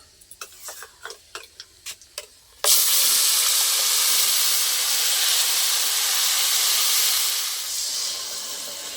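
Loud, steady sizzle that bursts up suddenly as ground spice paste hits hot oil with bay leaves in a pan for a vegetarian paneer dish, after a few light clicks and taps, then slowly eases off.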